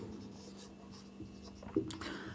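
Faint, quiet scratching of writing on a board, soft strokes with a slightly louder tap near the end, under a low background hum.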